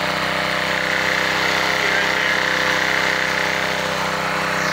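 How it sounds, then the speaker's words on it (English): A Honda 2800 PSI power washer engine runs steadily, a loud, continuous mechanical drone with a constant hum that stays even throughout. "It's a power washer."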